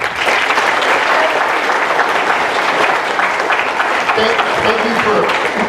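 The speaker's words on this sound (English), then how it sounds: "let's give them another round of applause" Students in a high school audience give a loud, sustained round of applause that stays dense and steady throughout, with no break.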